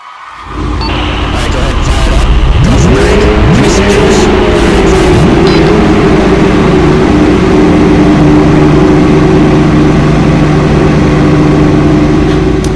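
Virtual IndyCar race car engines roar in the iRacing video game at Michigan International Speedway, a loud, sustained drone with several pitch sweeps rising as cars accelerate off the start, then settling into a steady overlapping whine.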